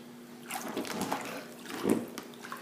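Gentle bubbling and trickling of CO2 bubbles released from a patch in water, soft and close, with a couple of small gurgling swells and a faint steady hum underneath.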